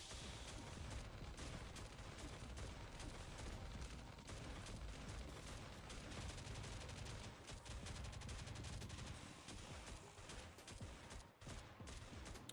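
Deployed turret firing on enemies in the survival game Last Day on Earth, a steady stream of rapid gunfire that stays dense and constant throughout, briefly thinning near the end.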